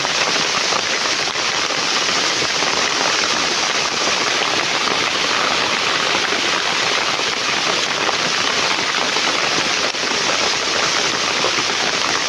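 Rain falls steadily on a farm, a dense, loud, even hiss of drops on surfaces that continues unbroken with no voices.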